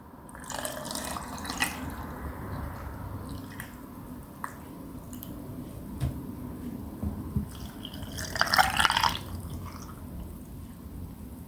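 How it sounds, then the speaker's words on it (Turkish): Bottled demijohn water poured into a jar of cucumber pickles with vinegar brine; soft, faint trickling and gurgling splashes, quiet for most of the stretch and swelling into a louder burst of pouring near the end. "Şimdi damacana suyunu ilave ediyorum."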